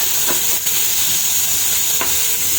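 A ladle stirs squash and vegetables in a steaming, sizzling pan, with a few brief scraping strokes over a constant close hiss of frying.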